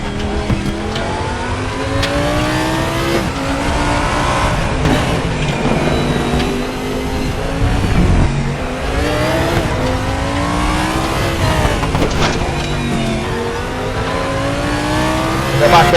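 Audi LMS race car in the RaceRoom sim, engine revving hard and loud through repeated upshifts and rising sweeps, with brief lifts and tire squeal as the rear end steps out.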